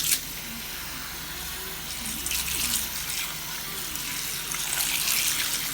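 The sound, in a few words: cold tap water running into a bowl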